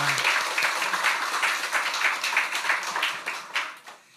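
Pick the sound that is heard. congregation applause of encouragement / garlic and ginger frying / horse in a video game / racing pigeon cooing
congregation applause of encouragement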